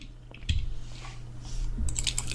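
Fingers clatter on a computer keyboard in quick, close bursts of small clicks, with a faster flurry of keystrokes near the end and no talking.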